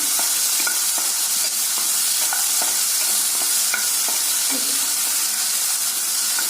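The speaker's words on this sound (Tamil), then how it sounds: "எண்ணெயில் பெரண்டையை வறுக்கும் போது தன்மை கம்மியாகுங்க" Pirandai (veld grape) frying in oil in a pan for homemade pirandai podi, a steady loud sizzle throughout with a spoon scraping and stirring in irregular taps over it.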